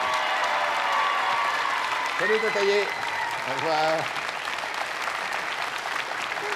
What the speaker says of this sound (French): Je vais demander aux gens d'applaudir comme ils ont envie d'applaudir,